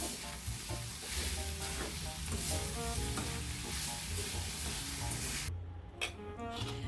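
Green tomato chutney ingredients sizzle and crackle in a hot pan on a gas stove, a steady close frying hiss with occasional stirring scrapes and a brief pause near the end.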